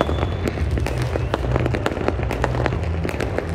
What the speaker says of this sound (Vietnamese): không biết bao nhiêu là những cái màn pháo hoa được bắn lên trên trời